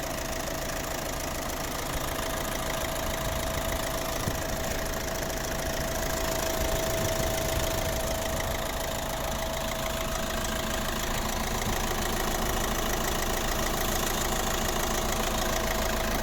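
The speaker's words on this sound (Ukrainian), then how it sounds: "м'ягко, тихо працює цей двигун." A 2012 Opel Astra J Sports Tourer with a 1.7 diesel engine idles steadily up close, a smooth, even mid-pitched hum with a faint constant whine and no talk over it.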